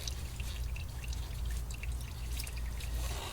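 Engine oil draining from a 2018 Ford Edge Sport 2.7L EcoBoost V6 trickles and pours in a steady stream, heard up close over a low background hum.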